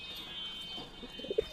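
Teddy pigeons, a quality breeding pair offered for sale, coo softly, with a couple of brief low coos near the end over a faint steady background hum.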